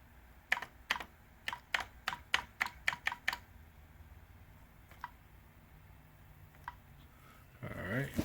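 Typing on a computer keyboard while entering a password during setup of an Epson WF-7820 printer: a quick run of about ten close, crisp keystrokes, then two isolated taps after a pause, with no talk.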